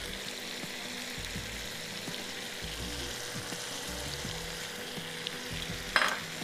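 Marinated chicken frying with ginger, garlic and tomatoes, a steady close sizzle with faint stirring, ending in a short sharp clatter, no speech.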